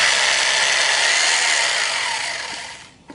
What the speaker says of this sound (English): you're going to need a hammer drill and a 3/8 inch masonry bit